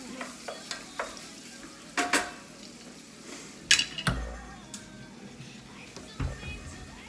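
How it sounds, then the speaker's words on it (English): Sausage frying in a pan for biscuits and gravy, stirred with a utensil: soft sizzling runs throughout under sharp, irregular scraping and clacking strokes against the pan, close up, with a few louder knocks. "You wanna get your sausage cooked thoroughly"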